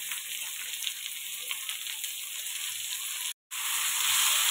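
Tomatoes added to browned onions in a hot pan, giving a steady, fairly loud sizzle that continues throughout with one brief dropout, and no talk.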